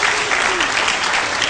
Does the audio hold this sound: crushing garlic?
no